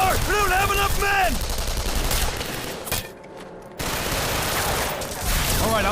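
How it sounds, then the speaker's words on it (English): Rapid machine gun bursts in the shooter game Killzone 3 rattle loudly through most of the stretch, with a brief lull, explosions and battlefield noise, and a shouted voice near the start. "those machine guns are tearing us apart!"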